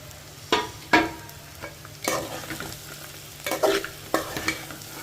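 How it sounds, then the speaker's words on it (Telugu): Sun-dried vadiyalu crisps sizzle and crackle in hot oil, with several sharp stirring clatters of a utensil against the pan at irregular moments, close by. "ఒడియాలు కూడా వేసేస్తున్నాను"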